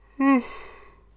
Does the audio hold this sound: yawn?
yes